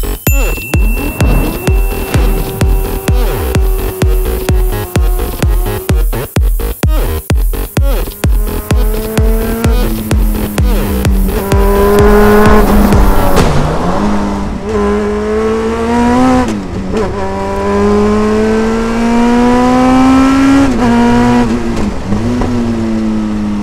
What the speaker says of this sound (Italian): Venite a sentire il suono di quando inserisce la prima.